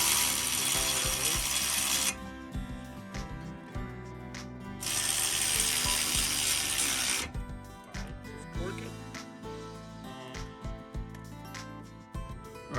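A ratchet tightens the front brake caliper bracket on a 2012 Nissan Sentra, with bursts of rapid clicking, a pause, then more clicking and a few metallic knocks, close by.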